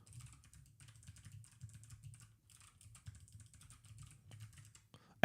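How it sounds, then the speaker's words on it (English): Rapid, uneven typing on a computer keyboard during Rust programming work, a steady patter of close, light key clicks with brief pauses, ending in a sharper knock. "I swear I'll learn to type in this keyboard sometime soon."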